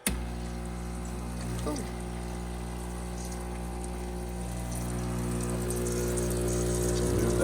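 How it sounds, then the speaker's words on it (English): A Breville Barista Touch espresso machine purging hot water from its side spout into the drip tray, a steady pump hum with hissing, splashing flow that continues evenly and grows slightly louder, with a brief exclamation from a person. "I'm going to hit the purge button."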